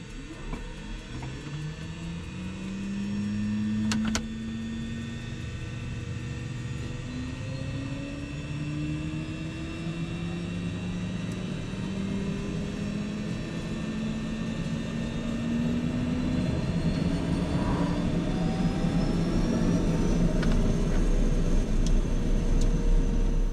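Twin turboprop engines of a Cessna Conquest spool up at startup, a steady loud drone with rising whine tones building over time, close and continuous with no talk.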